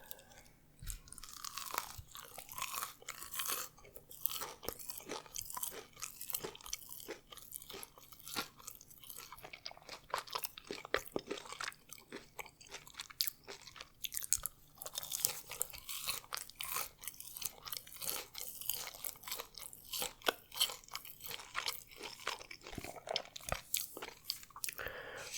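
Close, steady crunching and chewing of spicy fast-food chicken nuggets, repeated crisp bites and mouth sounds continuing alone for the whole stretch without any talking.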